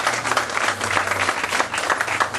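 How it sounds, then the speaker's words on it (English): Steady applause from an audience at a grand opening and ribbon cutting for an auto shop, dense clapping throughout with a low hum underneath. "let's give them a round of applause"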